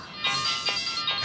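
A phone rings with a bright, steady electronic ringtone in a home setting, its tone pulsing in short repeating bursts for just over a second, clear and alone with no talking.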